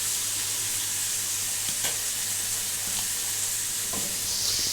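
Oil sizzles in a pan of frying Bengali aar fish curry with green peas, a steady close hiss broken by a few soft stirring scrapes, no voices.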